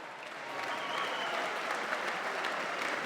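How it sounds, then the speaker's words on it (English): A crowd at a Muay Thai fight event applauds, dense continuous clapping that swells in within the first half second and holds steady throughout. "A massive round of applause once again, please."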